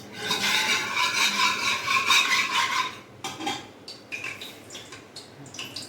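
Hot cooking oil sizzles in a pan while preparing black chickpea curry, a steady, bright hiss for about three seconds that then breaks into shorter, softer crackling bursts.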